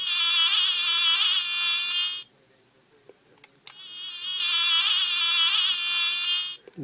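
Two bursts of whining, buzzing mosquito noise from a Transpod toy, each about two seconds long and separated by a short pause with a soft click, loud and close with no talk.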